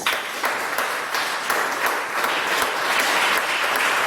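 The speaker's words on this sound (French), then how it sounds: "Est-ce qu'on va acclamer le Seigneur?" A church congregation bursts into sustained applause to acclaim the Lord, a full, even roar of many hands clapping that stays loud throughout with little else heard.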